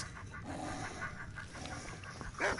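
Pet dogs in the Skyrim video game pant in quick, steady rhythmic breaths, fairly close and moderately loud against game background noise, continuing throughout.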